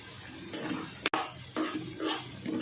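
A spoon stirs sliced onions softening in a pan for corn poha, giving close, quiet scraping and gentle sizzling in a few uneven strokes, with one brief clink midway.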